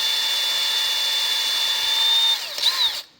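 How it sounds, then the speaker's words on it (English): A power drill whines at a steady high pitch while boring into metal, then the tone dips and wavers as it strains before stopping abruptly. "And from there, we can drill it"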